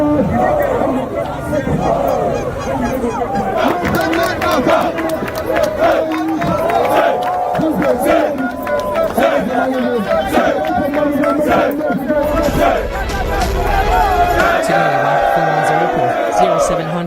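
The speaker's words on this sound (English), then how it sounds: "the crowd I am seeing here is so massive" A massive crowd of protesters on the streets in Rivers, loud chanting and shouting voices swelling and surging continuously, dense and close, with rhythmic bursts of collective cries.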